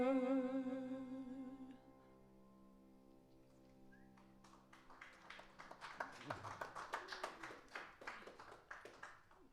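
An audience claps after a live Caribbean Christmas jazz set, a sustained musical chord fading out first before a burst of scattered, close, crisp handclaps builds up and continues to the end.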